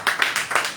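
An audience clapping loudly at a church sermon, a short burst of several brisk hand claps close together, fairly loud with no talk over them.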